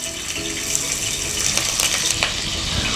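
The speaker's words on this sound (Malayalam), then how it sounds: "ഇനി ഈ വെളിച്ചെണ്ണയിലേക്ക് നമ്മൾ പച്ചമുളക് വറുത്തിടാൻ പോകണം" Green chilies frying in hot coconut oil for Kerala ginger pachadi, a steady close sizzle with crackling bursts and occasional utensil clinks throughout.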